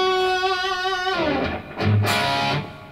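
Distorted electric guitar through a Landry LS50G3 amp's high-gain distortion channel, a sustained crunchy chord ringing out and fading, followed by a second gritty strummed hit.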